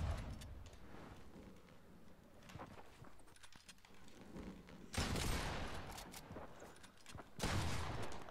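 Video game gunfire from a flintlock pistol and a pump shotgun comes as several loud, sharp blasts, each ringing out and decaying, with two big shots near the end over a quieter background.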